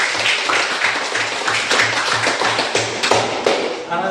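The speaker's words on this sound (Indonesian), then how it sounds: "Tepuk tangan untuk kalian ini." A classroom of students claps in rhythmic unison, steady rapid taps close and fairly loud for a few seconds.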